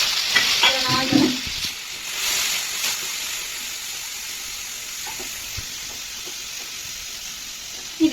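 Mustard seeds, fenugreek, onion, green chili and tomato fry in a pan, giving a steady soft sizzle and hiss with a few scraping stirs near the start, and no talking.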